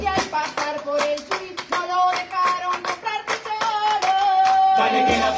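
Hands clap in a sharp, rhythmic pattern at a lively street-stage show, each clap distinct and close, set against a sustained tonal vocal or instrumental line.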